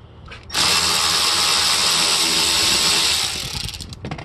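Power tool backs out a seat bolt inside a Mercedes Sprinter van, a loud, close, steady whirring drill buzz starting abruptly, running about three seconds, then winding down.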